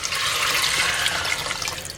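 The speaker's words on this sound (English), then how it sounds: "we're going to cover it with some cold water" Cold water pours steadily over dried beans, a continuous splashing, gurgling stream that stays close and loud throughout with no voices.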